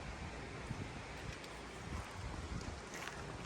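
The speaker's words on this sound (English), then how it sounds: "The wind is blowing my cardboard all over the place." Wind blows outdoors on a Florida farmstead as a faint, steady, gusty rush of noise, with no voices.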